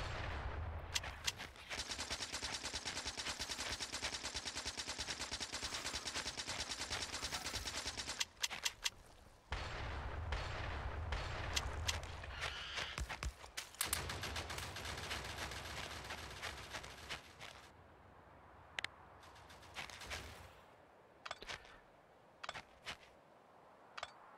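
Rifle gunfire in Factorio with the Krastorio 2 and Space Exploration mods: a long stretch of rapid, sustained automatic shots, then a brief pause and more bursts of fire that thin out into scattered single shots near the end, with no talking.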